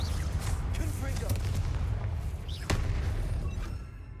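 A fiery Confringo blast spell goes off in Hogwarts Legacy, a booming burst with a sharp crack partway through, layered over continuous game noise and some voice.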